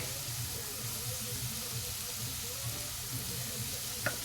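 Vegetables fry in a pan with a steady, even sizzle that runs throughout, close by and moderately loud, with one brief clink near the end.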